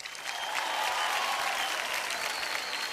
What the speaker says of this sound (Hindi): एक ताली हो जाए।